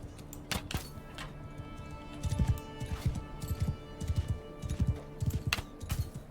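Horse hooves clip-clop across the ground in the game Bannerlord, a steady run of quick, fairly close thuds that grows denser and louder in the second half, with faint ambient tones underneath.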